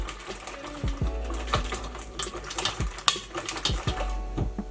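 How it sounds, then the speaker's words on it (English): A whisk scrapes and clinks rhythmically against a bowl of wholemeal pancake batter, close and steady with repeated sharp taps, and no talk. "continue to whisk it. Give everything a good mix. Ensure to whisk very well."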